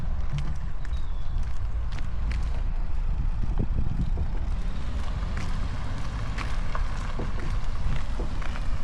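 Strong wind buffets the microphone outdoors during a rowing session on the water, producing a loud, continuous rumbling roar with scattered gusty thumps throughout and no speech.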